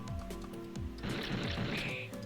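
Bottled water is used as an item in the video game Huntress of the Hollow, producing a short liquid squish and gurgle over a low, steady game-music background.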